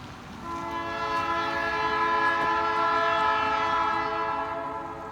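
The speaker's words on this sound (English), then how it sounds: "And here comes the train." A train horn sounds long and loud with steady harmonic blasts while the train rolls through a High Street railroad crossing in downtown Mount Orab, the rumble of the cars running continuously underneath.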